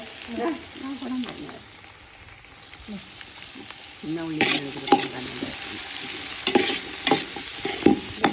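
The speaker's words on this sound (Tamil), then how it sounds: "பெரிய வெங்காயம் சின்ன வெங்காயம் இந்த ரெண்டும் போட்டாச்சு" Big and small onions sizzle and fry in a pan while being stirred, crackling steadily with scraping stir strokes growing louder in the second half, as someone talks over the cooking.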